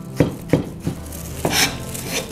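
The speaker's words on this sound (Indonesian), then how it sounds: "Kita cincang lagi supaya lebih halus." Chilies finely chopped with a knife on a cutting board, four distinct knocks at an uneven pace followed by a brief scraping sweep, close and clear with no talk.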